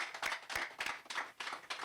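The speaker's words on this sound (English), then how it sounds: "And a hand of applause to you for that." Audience applause at a groundbreaking ceremony for a festival venue reconstruction, heard as quiet, uneven bursts of clapping in several short waves, fairly distant.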